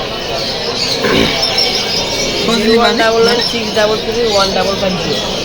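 Pigeons or doves cooing among other birds at a bird market in Mirpur, Dhaka, soft repeated coos and occasional chirps heard close by, partly under the talk of people in the clip.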